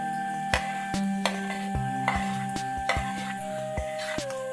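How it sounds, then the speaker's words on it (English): Onions fry in a pan with a gentle, constant sizzle, broken by intermittent clacks of stirring, and a faint musical tone runs underneath. "So till the onions gets fried"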